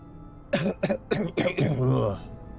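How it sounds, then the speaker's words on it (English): A burst of rough coughing close to the mic from a man who has been screaming, several hacking bursts trailing into a strained, hoarse exhale. "my cough's getting worse the more I'm screaming tonight"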